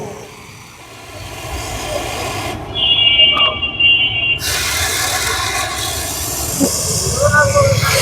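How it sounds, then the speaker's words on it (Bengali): A foam wash sprayer blows CSBD Makhon foam in a steady, loud hiss that runs through most of the stretch, with people talking nearby. "আমরা সিএসবিডির মাখন ফোম এভাবে উড়িয়ে দেই"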